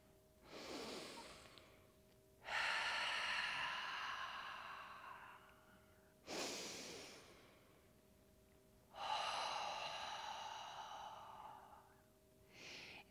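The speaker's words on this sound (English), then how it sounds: "Now take in a deep breath." A person draws long, slow, deep breaths in and lets them out, several drawn-out airy inhales and exhales heard close and quiet, with a faint steady hum behind them.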